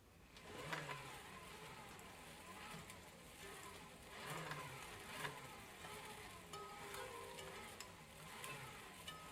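A bicycle dynamo spun by hand gives a faint, continuous whirring buzz with a slight rattle, gently rising and falling in strength.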